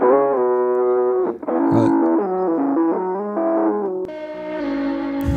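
Harmonic musical signal run through the distorted Retired Amp setting of the XLN Audio RC-20 Retro Color plug-in, a gritty, saturated tone with shifting notes that stays loud and continuous, brightening near the end.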